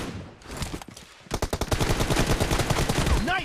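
M416 rifle fire in the mobile battle royale game BGMI: a dense, rapid stream of automatic shots starts partway through and continues steadily over busy in-game ambience.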